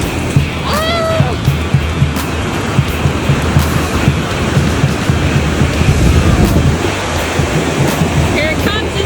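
Ocean surf rolls onto the beach at Riu Emerald Bay in Mazatlan as a loud, continuous wash of breaking water and wind, with brief voices and a high call rising faintly above the roar.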